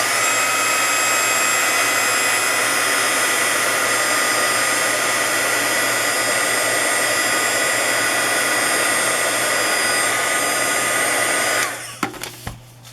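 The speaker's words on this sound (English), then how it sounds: "So I'm going to try the heat gun, and hopefully it'll blow it around and fill in the rest of the silver that's showing." A heat gun blowing on alcohol ink over metal: a loud, steady whining roar that runs unbroken for nearly twelve seconds, then cuts off and is followed by a few handling knocks.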